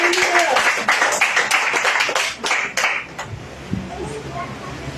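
A church congregation at an El Shaddai healing service claps together in a dense, steady burst that thins out midway, with a few scattered claps and some voices lingering at the end.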